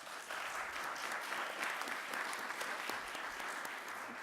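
Audience applause for conference panelists at a summit forum in Miami, a steady, dense wash of clapping that runs unbroken from start to finish at a moderate distance.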